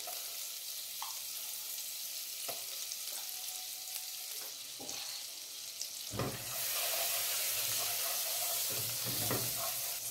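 Garlic frying in a spoonful of melting margarine in a home kitchen, a soft, steady sizzle with occasional light knocks that swells abruptly louder and brighter partway through.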